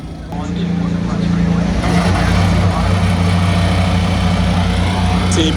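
A Team Penske IndyCar engine fires up at a Honda Indy 200 race, a loud, steady mechanical drone and idle that holds throughout with faint crowd voices and background noise mixed in.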